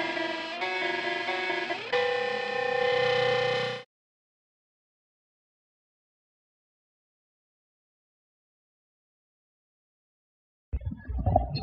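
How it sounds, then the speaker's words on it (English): Electric guitar through distortion effects on stage amps plays a loud sustained chord passage for a few seconds, then cuts to silence before a brief noisy burst returns at the end. "Is the guitar sound okay at first?"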